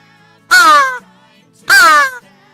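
A handheld crow call gives two loud, close, harsh caws roughly a second apart, each lasting about half a second, imitating a crow, with quiet background between blasts.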